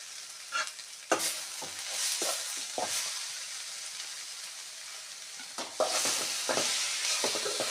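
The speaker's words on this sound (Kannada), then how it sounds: "ಆಮೇಲೆ ಟೊಮೆಟೊ ಹಣ್ಣು ಇದು ಕೂಡ ಫ್ರೈ ಆಗಬೇಕು" Tomatoes fry in oil with garlic paste in a pan, a soft steady sizzle broken by several sharp scraping stirs of a spatula, fairly quiet and close with no voices.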